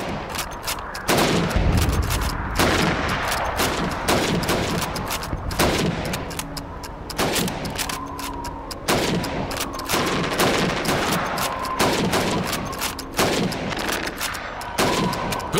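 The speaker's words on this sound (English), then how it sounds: "You have 15 seconds to shoot the helmets." Repeated rifle shots in Call of Duty 2, fired in quick succession at helmet targets on a training range, loud and sharp with short gaps, alone without talk.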